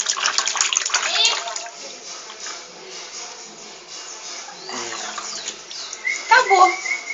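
Water splashing and trickling as a rabbit is bathed, with irregular small splashes and dripping close by while someone talks softly over them in Portuguese.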